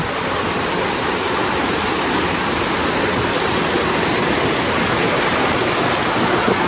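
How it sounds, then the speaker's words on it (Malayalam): A waterfall at Omeru Reserve near Auckland roars loudly as a dense, constant rush of falling water that fills the whole scene without pause, with no voices. "വെള്ളത്തിൻ്റെ നല്ല ഒച്ചയേക്കാം."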